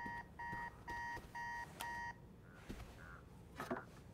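Electronic alarm from the Spider-Man 2 video game, a bright two-tone beeping that repeats in five even bursts, then stops, followed by a few faint scattered game sounds.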